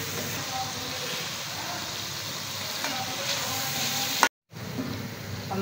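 Spices sizzle steadily in a hot pan, including chilli, turmeric, garam masala and black pepper, a close, continuous hiss of frying that cuts out briefly for a moment before resuming.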